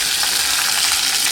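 Asafoetida, cumin seeds and curry leaves sizzle loudly in hot oil for a Marathi tomato amti, a dense, continuous crackling hiss close to the pan with no talk.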